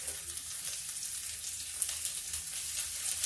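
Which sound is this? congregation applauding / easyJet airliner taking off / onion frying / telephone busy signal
onion frying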